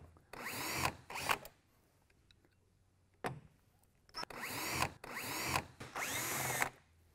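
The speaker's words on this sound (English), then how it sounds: "I remove the two screws on the back of the unit that attach to the blue cover" A power drill backs out screws from the blue cover of a Dri-Eaz DrizAir 1200 portable dehumidifier in several short, loud whirring bursts separated by quiet pauses.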